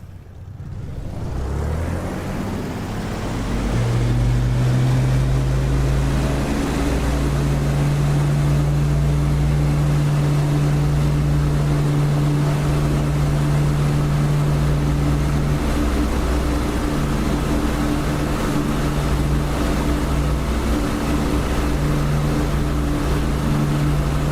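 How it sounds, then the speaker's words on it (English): Aircraft engine in the DCS flight simulator game throttling up, a steady low drone that rises in pitch and loudness after a few seconds, then holds as a continuous, close hum with no talk. "Throttling up."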